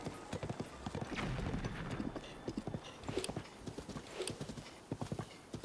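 Horse hooves in a Zelda video game clip-clop in a fast, steady galloping rhythm, loud and close, with a brief whinny and no talking.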